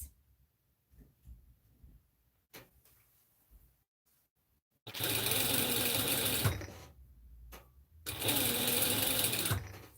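A sewing machine runs a hem in two loud, sustained bursts, close by, after a few quiet clicks and handling noises.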